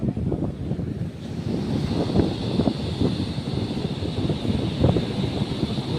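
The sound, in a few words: strong wind at the seashore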